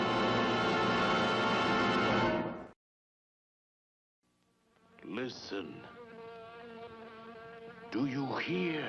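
Loud insect-like buzzing of a giant wasp from a 1959 horror film: a steady drone cuts off into silence, then wavering, swooping buzzes return in bursts over a tonal score.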